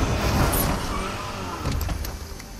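Car in the Fortnite video game, its engine a steady low rumble that dips slightly partway through, with a few brief clunks and taps near the end.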